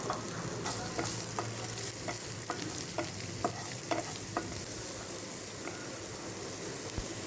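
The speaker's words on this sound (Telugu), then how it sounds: "ఇందులో ఇప్పుడు తరిగి ఉంచుకున్న ఉల్లిపాయ ముక్కలు వేసుకొని కొంచెం వేయించుకోవాలి." Chopped onions fry in hot oil with cumin and asafoetida, a steady close sizzle punctuated by repeated stirring scrapes and clinks of a spoon against the pan, no voices.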